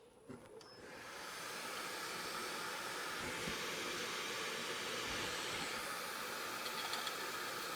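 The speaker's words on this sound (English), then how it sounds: "if you do have a vacuum, it will suck most of that stuff away" A shop vacuum runs steadily at a woodturning lathe, drawing up wood shavings; a broadband hiss starts after a brief click and stays constant and fairly close throughout.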